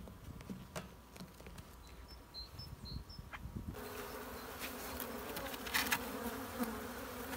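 Honey bees buzz loudly as they are shaken off hive frames during a colony split, the drone thickening and swelling halfway through with scattered knocks and taps beneath it.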